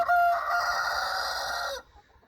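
Young rooster crowing once, a loud, close call held for nearly two seconds before cutting off.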